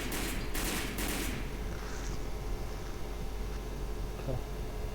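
Gunfire from a video game: a few dense bursts of rapid shots in the first second and a half, loud against a steady noisy game background, followed by continuous rumbling ambience.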